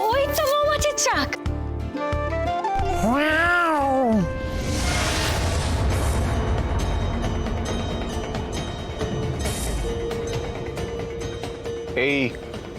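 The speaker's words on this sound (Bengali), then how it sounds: "এই বিড়ালটাকে সরাতে হবে, তাহলেই চাকটা নেওয়া যাবে।" A cat gives a couple of rising-and-falling meows, one early and a brief one near the end, over a busy background of music and drama-scene sound effects.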